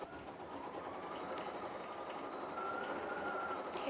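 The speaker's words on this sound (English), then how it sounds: "definitely get comfortable with it stitching at full speed." A Bernina 880 embroidery machine stitching at full speed, a steady fast mechanical whir with a continuous rhythmic hum that holds alone and unbroken throughout.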